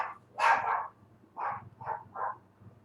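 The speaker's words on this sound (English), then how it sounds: "that'll be my dog." A dog barks in the near distance: one louder bark, then three shorter, softer ones at an uneven pace, against a quiet low background hum.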